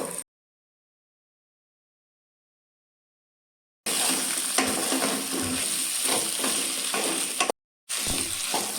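Spice paste and vegetables being stirred and fried in a pan for a Bengali fish-head mitchuti, with steady sizzling and scraping that starts abruptly after several seconds of silence and continues near and fairly loud, with a brief gap near the end.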